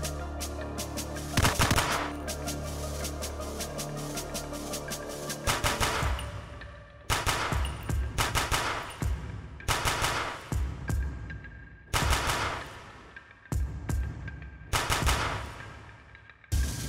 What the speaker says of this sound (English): I haven't shot an MP5 in a long time, quite some time, but I know that they're pretty easy to control